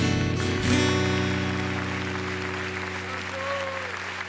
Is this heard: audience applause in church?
yes